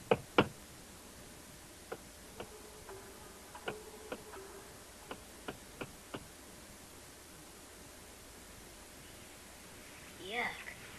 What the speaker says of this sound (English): Why did he keep knocking on the walls?